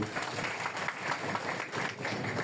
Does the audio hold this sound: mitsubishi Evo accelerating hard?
no